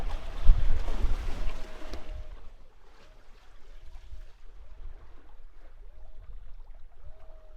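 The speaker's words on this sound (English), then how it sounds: "Well, we are sailing, we're not getting anywhere particularly fast." A sailboat moves slowly under light wind, with a steady wash of water and wind noise. A louder rush at the start settles into a quiet, continuous hiss with faint repeated tonal creaks.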